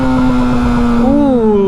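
Motorcycle fitted with a slip-on exhaust and a sprint air filter, revving steadily up close with a strong droning engine note that rises and falls in pitch, loud and continuous with no talk over it.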